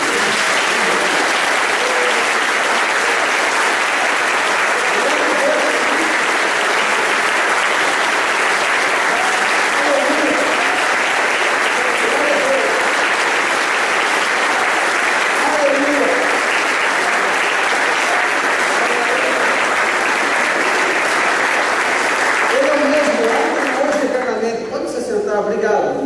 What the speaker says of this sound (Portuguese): Jesus precisa de uma salva de palmas muito grande